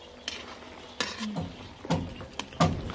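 Adobong native chicken is stirred in a cooking pot on a farm, several separate metal scrapes and clinks of a utensil against the pot over a faint simmer.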